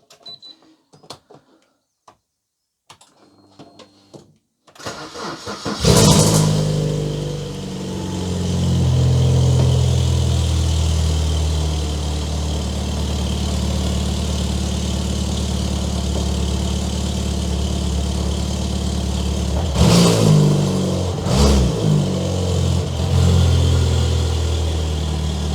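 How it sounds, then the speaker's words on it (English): A BMW 116 trophy race car's engine cranks and catches with a sharp burst, then settles into a loud, steady idle and rumble, with a couple of blips of revving near the end. Quiet clicks and handling noises come before the start. "I think we're going to have to start the car."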